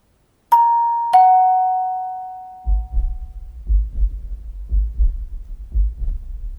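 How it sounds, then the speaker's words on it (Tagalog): Two clear electronic doorbell chimes ring close and loud, each tone sustaining and fading, followed by a low throbbing rumble like a pulsing heartbeat. "May nag-doorbell sa pinto mo."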